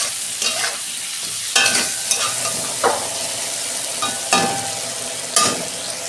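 Bitter gourd pieces fry in white oil with a little turmeric and salt, a steady bright sizzle broken by several sharp scraping stirs of a spatula against the pan, close and fairly loud with no talking.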